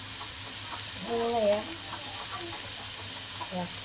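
Onions frying in a pan for potato puri, a steady sizzle with some stirring throughout, with a faint voice murmuring briefly in the middle.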